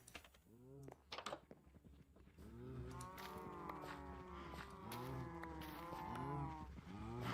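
Cows mooing in Minecraft, several drawn-out moos overlapping one after another, with clicky keyboard typing and mouse taps heard early and mixed in beneath.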